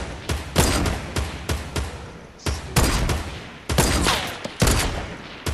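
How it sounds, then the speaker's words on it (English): Rapid bursts of gunfire from a Fortnite squad match, sharp loud cracks coming in quick clusters separated by short pauses, with no talking over them. "I'll scare him with my snipes"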